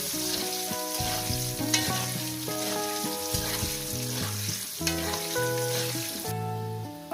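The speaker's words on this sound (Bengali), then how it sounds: "এবার এটা খুব সুন্দর করে ভেজে নিই" Potatoes with turmeric and spices fry in oil with a continuous sizzle and occasional stirring, heard beneath a melodic music track that plays throughout.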